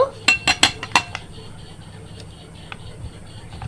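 A utensil strikes the side of a bowl while eggs, onion and chili flakes are mixed, giving about five sharp clinks in a row near the start, then a few softer taps over quiet room noise.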